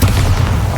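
A Bombarda blasting spell detonates in the Hogwarts Legacy video game during a fight; a single loud, deep, rumbling boom that fills the whole brief moment.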